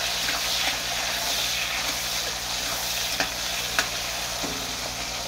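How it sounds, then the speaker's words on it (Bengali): Chopped onion and tomato sizzle steadily in a wok while being stirred, with a few distinct scraping knocks of the spoon against the pan over the constant hiss. "পেঁয়াজ আর কুচি টমেটো কুচিটা ভালো করে ভেজে,"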